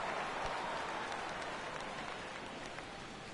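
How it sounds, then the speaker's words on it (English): Steady, faint rain falling over a ballpark in a baseball video game, a soft continuous hiss of drops with no other sounds on top. "Rain continues to fall here in the 6th."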